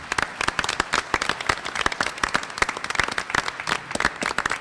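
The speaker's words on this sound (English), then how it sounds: "ask you to give them all a warm round of applause" A warm round of applause fills the room at a Newport School Committee meeting, many hands clapping densely and steadily throughout.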